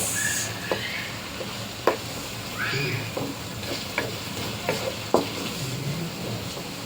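Tomatoes cooking in a pan give a quiet, steady sizzle broken by scattered light taps and clicks of a spoon against the pan, close by, with no talking.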